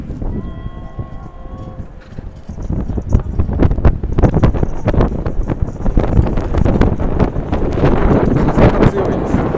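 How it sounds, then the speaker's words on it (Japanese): Strong wind gusts roar into the microphone at Shinjuku station's south exit in Tokyo on a Monday afternoon, a loud, continuous buffeting rumble with faint tones from the surroundings early on. "風が強いです。"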